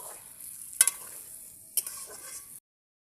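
Spiced food with salt and chili powder stirred in a frying pan, a soft hiss with two sharper scraping clicks from the spoon, close and fairly quiet before it cuts to silence.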